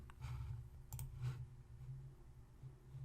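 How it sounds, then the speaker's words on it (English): A few mouse clicks on a software button, each a short, soft tap against a low steady hum, close and fairly quiet, with no talking. "then I'll just click the Migrate button"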